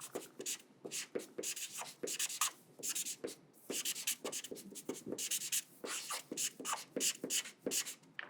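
A pen scratches and rubs across paper in quick strokes and short bursts, close and quiet, with brief pauses between the marks.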